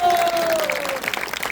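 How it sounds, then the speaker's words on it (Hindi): An audience claps loudly and steadily at a Tulasi Vivah skit in a devotional gathering, a dense patter of applause with a voice sliding over the top. "जोरदार तालियां हो"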